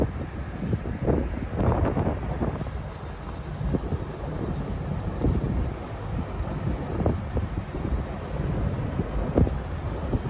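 Wind gusts outdoors beside a building doorway, a rough rumbling buffeting that swells and fades against the microphone, steady and fairly close with no clear voices.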